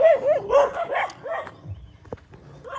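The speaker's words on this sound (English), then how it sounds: "when I walk by, they barely bark by myself, but when I have the dog, they get a little more sensitive to that" Several neighborhood dogs in Barotac Viejo, Iloilo, Philippines bark and yip in loud, close bursts at a passing walker and dog, fading into scattered whimpers and a few last barks.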